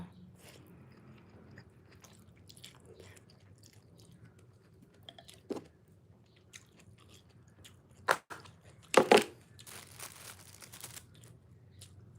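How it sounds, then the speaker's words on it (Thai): Someone eats khao poon rice noodles, with soft, irregular chewing and slurping close to the mic in a quiet room, a few sharper crunchy or crinkling bursts standing out near the end. "มากินข้าวปุ้นนำกันเด้อ"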